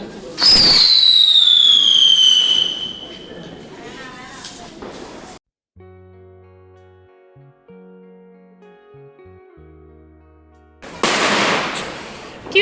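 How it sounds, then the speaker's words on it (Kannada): Diwali fireworks whistle and crackle loudly at first, then music plays, and another burst of crackling explosions erupts near the end. "ತುಂಬ ಪಟಾಕಿ ಹೊಡೆದಿದ್ರು ಇನ್ನು ಹೊಡಿತಾನೇ ಇದ್ದರು ತುಂಬ ಸೌಂಡ್ ಬರ್ತಾಯಿತ್ತು"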